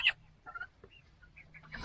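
Turkeys kept alongside chickens give a few soft, brief calls and clucks at a distance, faint against a quiet background.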